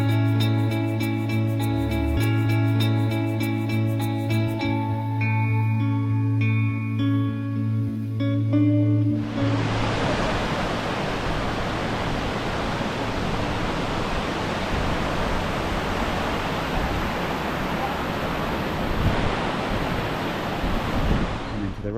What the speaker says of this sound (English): Here we are at Box Canyon Falls